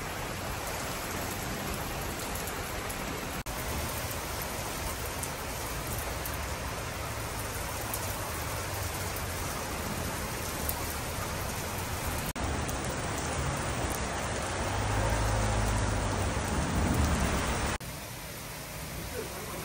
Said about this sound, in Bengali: অনেক বৃষ্টি হইতাছে দেখো।